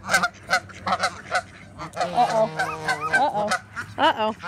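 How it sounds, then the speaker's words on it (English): Several geese honk loudly and repeatedly at close range, harsh overlapping calls coming in bursts with brief gaps between them. "I hear more geese."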